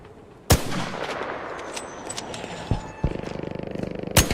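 Gunfire in the ARC Raiders video game: a sharp loud shot, then a couple of quieter cracks, and finally a rapid automatic burst followed by one last loud shot, with game background noise throughout.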